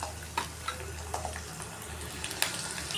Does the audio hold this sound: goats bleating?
no